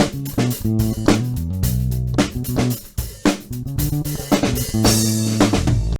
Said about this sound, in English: I have my drums recorded, and then we have just a scratch bass track